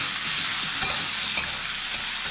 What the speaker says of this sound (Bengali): এবার আমি আলুটা দিয়ে দিলাম, আলুটা দিয়ে ভালোভাবে ভাজতে হবে